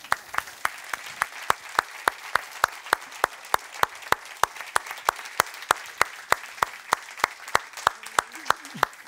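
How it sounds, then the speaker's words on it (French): An audience at a French regional health conference claps for the whole stretch, with a steady, evenly paced rhythmic beat of hand claps at moderate volume and soft voices underneath. "Les applaudissements, s'il vous plaît."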